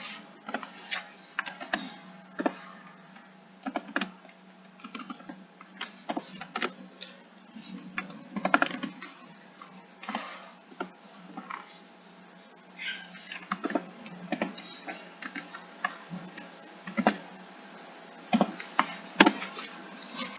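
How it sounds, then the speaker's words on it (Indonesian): Computer keyboard typing while a function is entered into Maple software, with irregular clusters of key clicks throughout, fairly close and moderately loud, and some soft speech-like sounds mixed in. "kemudian ketikkan fungsinya"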